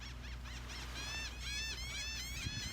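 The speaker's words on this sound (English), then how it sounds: "The birds are talking." Birds chirp outdoors at a beach in quick, repeated high trills, faint against steady low background noise, with no talking.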